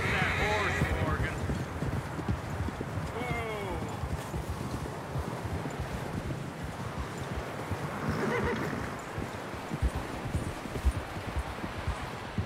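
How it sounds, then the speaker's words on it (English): Horse in Red Dead Redemption, a PC video game, with neighs and hoof clip-clops over a steady game soundscape, while characters talk nearby. "Get a hold of that horse, Morgan."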